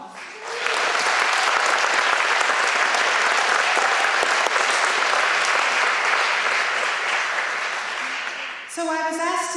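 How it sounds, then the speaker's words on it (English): An audience at CMC Leadville's 50th anniversary presentation applauds students with loud, sustained clapping for about eight seconds. The clapping fades as a voice begins speaking at the end. "join me right now in giving them a round of applause"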